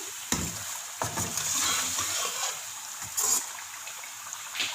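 Aloo gosht, meat with potatoes, cooks in a pot over medium heat: soft sizzling runs underneath while sharp clatters from stirring break in at irregular moments, close and fairly loud.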